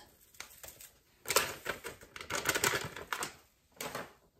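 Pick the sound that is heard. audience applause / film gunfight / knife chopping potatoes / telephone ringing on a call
knife chopping potatoes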